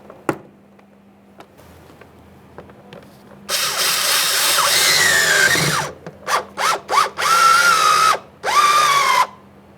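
Door handle mounting bolts being driven on a 2015-2020 Ford F-150 with a power driver, first a long whirring run, then several short bursts and a final sustained run, loud and close with no talk.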